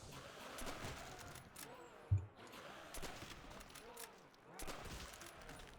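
Gunfire from a favored weapon in Call of Duty Zombies on the Nacht map, quiet and distant, rapid bursts of shots with one sharper crack among them.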